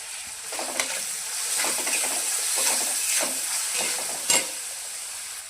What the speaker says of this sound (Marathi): मिरची चांगली फ्राय झालेली आहे तर त्यामध्ये अर्धा तुमच्या हळद टाकून घेऊया